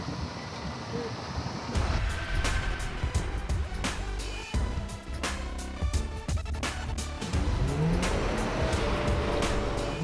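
A 4x4 on 35-inch tyres, stuck in a bog hole, revs hard in repeated bursts with engine roar and spinning, close and loud, and a rising whine near the end.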